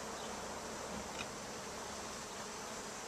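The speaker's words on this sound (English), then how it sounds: "We're going to try to get all the bees off of it." Honey bees buzz steadily during the hiving of a colony carrying brood and some chalk brood disease, a dense continuous hum close by with no voices.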